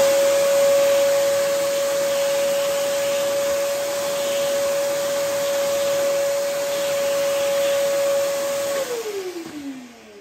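A vacuum draws reamer dust from the peghead of a 1972 Ramirez 1a flamenco guitar, a loud steady whine held for nearly nine seconds before it winds down and fades at the end.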